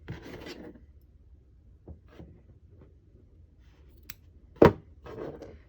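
Scissors snip a crochet yarn tail on a pumpkin truck appliqué, a single sharp close cut amid quiet rustling and handling of the yarn, with no talking.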